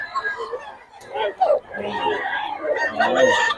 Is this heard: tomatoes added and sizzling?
no